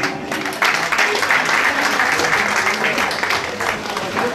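An audience claps at a church anniversary program for a rhythm accompanist, a broad wash of applause with some background voices mixed into the steady clapping.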